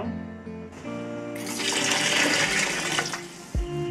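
Water poured into a pot of Patagonian lamb stew, a rising splashing gush that swells mid-way and then tapers, ending with a brief knock.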